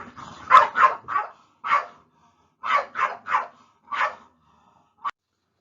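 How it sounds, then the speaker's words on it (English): Two pet dogs bark sharply in bursts indoors, a quick series of loud close yaps and woofs with brief gaps, ending on a single short bark. "I think my dogs are through killing each other"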